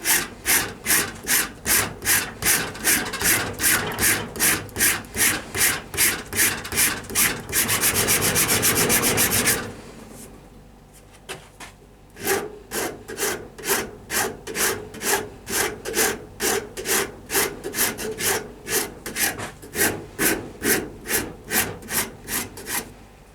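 Sandpaper sanding ebony overlays on a hickory bow: fast, steady rhythmic rasping strokes, close and loud, a pause with quieter scraping near the middle, then the brisk back-and-forth sanding resumes.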